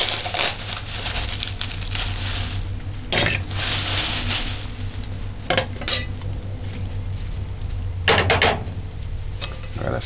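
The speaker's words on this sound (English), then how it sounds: "Gotta stir it in." A spoon clinks and rattles ice cubes in a glass of homemade orange juice drink, steady stirring with a few louder clatters, close up and with no talk.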